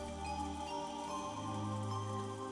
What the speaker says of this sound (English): As we listened to the sound of the rain